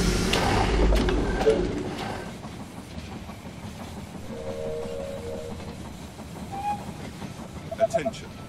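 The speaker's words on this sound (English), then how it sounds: "The train has arrived at the station." A train pulls into a station in the strategy game They Are Billions, with a rumbling rail clatter and brief horn-like tones amid game sounds, under a game announcer voice.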